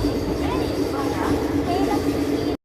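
The Tirupati Coimbatore Intercity Express rumbles into a railway station among hills, a loud, continuous low roar with a steady hum and faint squeals, unbroken until an abrupt cut.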